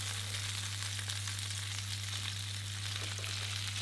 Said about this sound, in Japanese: フライパンに残っている旨味を肉の上に乗せる、あと乾かないように油をかけるという作業です